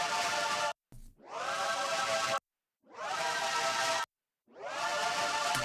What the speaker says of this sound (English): I used what's called a varispeed effect